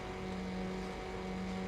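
Peugeot 206 engine in the NFS Underground racing game: a steady, loud synthetic motor drone holding a constant pitch with no speech, filling the whole short stretch.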